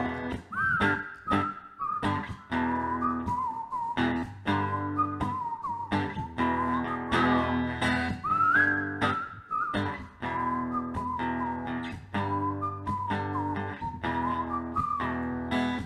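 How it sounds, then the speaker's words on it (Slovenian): A man whistles the melody of a tune on a breakfast show, a bright sustained line with gliding pitch that runs continuously and close up, over a steady backing of rhythmic accompaniment with no talking. "Zdaj pa še žvižgamo."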